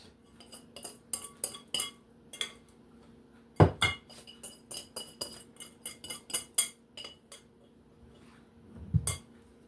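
Strawberry muffin batter being mixed in a bowl, a run of irregular clinks and scrapes of a utensil against the bowl, close and fairly crisp, with a couple of heavier knocks and no talk.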